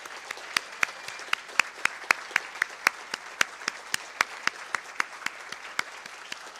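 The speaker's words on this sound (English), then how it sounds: "give them a round of applause" Clapping greets award winners at a conference keynote: a steady, evenly spaced series of crisp claps from a small group, fairly quiet and distinct against a hushed hall.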